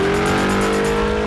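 A high-compression car engine with 14:1 compression, a billet crank, a tunnel ram and E85 fuel revs hard and loud nearby, a dense roaring burble with rhythmic pulses throughout.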